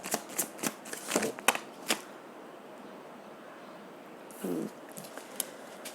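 Tarot cards riffled and shuffled in a quick series of crisp flutters and snaps, followed by a single card drawn and laid down, close and fairly quiet.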